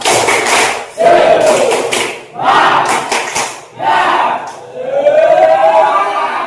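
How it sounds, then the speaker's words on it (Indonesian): Students in a religious studies classroom perform a rhythmic spirit clap chant together, loud and close, in four shouted group bursts of voices and claps separated by brief pauses, the last one drawn out. "kita tepuk dulu, ya. Tepuk semangat"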